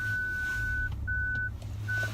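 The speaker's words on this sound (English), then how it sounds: "Excuse all of that beeping. That's the car identifying that there's stuff in my bumper." A car's parking sensor gives long, steady electronic tones, one after another with short gaps between them, over a low engine and road rumble.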